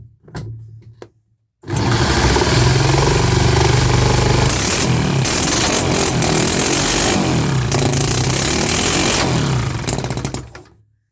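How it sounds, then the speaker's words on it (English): A small 3D-printed engine with its carburetor removed, running on starter fluid, sputters briefly, then roars to life and runs loud and rough for about nine seconds before cutting out. "I removed the carb and I'm running it on starter fluid"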